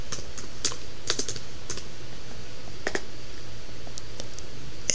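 Someone types on a computer keyboard in scattered, irregular bursts of light clicking keystrokes, close by, over a faint steady background hum.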